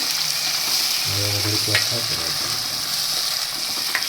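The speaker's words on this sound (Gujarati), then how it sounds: "તો આપણે તેમાં ટમેટું એડ કરી દઈશું અને હલાવીને મિક્સ કરી લેશું" Tomato is added to onions already frying in a pan and stirred in. A loud, even sizzle runs throughout, with a few scraping stir sounds close by.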